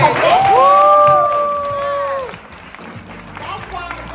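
An audience at an African ancestry event cheers with a loud, drawn-out whoop over scattered clapping. The noise fades after about two seconds and then flares briefly again.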